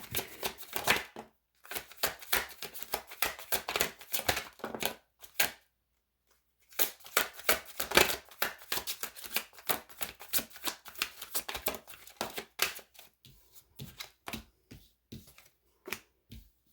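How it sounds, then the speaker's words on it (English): A deck of cards being shuffled by hand: repeated rapid riffling and snapping bursts in quick clusters, with brief pauses between rounds, close and fairly quiet. "I shuffle on camera"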